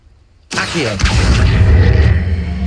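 An Accio summoning spell in Hogwarts Legacy fires after a brief near-silence: a sudden loud burst that settles into a sustained, booming rush with a shimmering sweep on top, heard up close.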